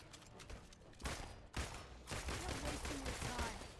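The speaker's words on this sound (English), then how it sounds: "Just shooting." Gunfire from the video game Marvel's Avengers on PS4 Pro crackles in dense rapid bursts, a sharp thump near the middle, with brief electronic effects toward the end.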